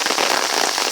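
Heavy rain in a worsening thunderstorm pours onto a street and curb under an umbrella, a dense, close, constant hiss of drops with no pauses or voices.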